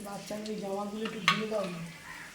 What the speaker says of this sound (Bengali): আর তো বকফুল তো ভাজা হচ্ছেই